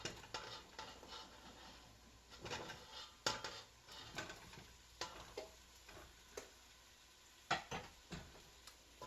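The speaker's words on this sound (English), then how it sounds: "Give it a good stir so the potato is coated in the onions, garlic, tomato paste, and all the spices we added to it." Potatoes being stirred with onions, garlic, tomato paste and spices in a pot, heard as soft scraping and scattered clinks of a utensil against the pot over a faint sizzle, quiet and close, with no talking.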